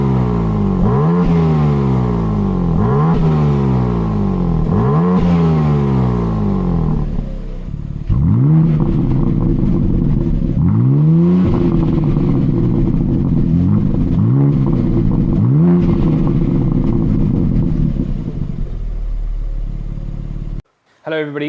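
A BMW G80 M3 fitted with an R44 exhaust system revs repeatedly, each throttle blip rising and falling in a loud, rasping sweep, followed by longer sustained revs and a brief cutoff at the end.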